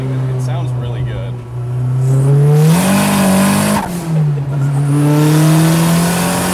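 A turbocharged KA24 engine in a Datsun 510 wagon accelerates hard, the engine note climbing, dipping briefly, then climbing again, loud and close inside the car with voices talking over it.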